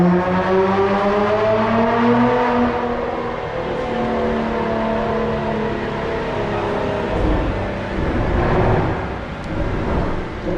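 A Nissan GT-R R35 with its front bumper removed runs on a dyno, the engine revving up through rising tones into a loud, sustained roar, then holding a steady drone with a harsher surge near the end.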